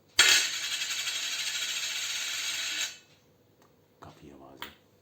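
A 10 rupee coin is dropped and rings with a bright, sustained metallic tone for nearly three seconds, then fades; a couple of short faint handling clinks follow.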